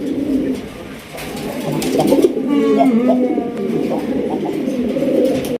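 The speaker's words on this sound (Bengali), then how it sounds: "রেড কালারের বোম্বাই কবুতর একদম বিগ সাইজ রেড দান অফ সাইজ দেখছেন ডাকের কি স্টাইল" A big red Bombay pigeon coos in a distinctive style close by, steady murmuring calls against a busy loft background with other pigeons and faint voices.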